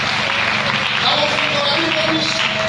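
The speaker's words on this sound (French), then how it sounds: "Acclamons très fort pour le Seigneur." A church congregation claps loudly in sustained, dense applause that fills the whole stretch, with a voice and background music running underneath.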